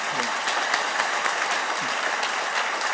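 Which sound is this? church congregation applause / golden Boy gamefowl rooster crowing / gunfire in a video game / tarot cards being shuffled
church congregation applause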